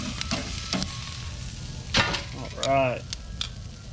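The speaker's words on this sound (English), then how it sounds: "I'm gonna throw them down on here. Sear that a little bit. Give me a little sear." Rib eye steaks cut from prime rib sear on a hot grill, giving a steady close crackling sizzle with a few sharper pops and clatters, and someone briefly speaks.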